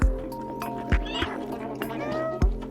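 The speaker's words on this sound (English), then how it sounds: "Oh, I love this little kitten." A kitten in the video game Stray gives several short, close meows spaced across a couple of seconds, over soft tonal game sounds in the background.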